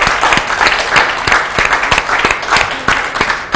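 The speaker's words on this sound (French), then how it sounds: "On peut les applaudir, effectivement" Studio audience on a French health quiz show applauds the contestants with close, brisk clapping and a few sharp, distinct claps standing out in the steady patter.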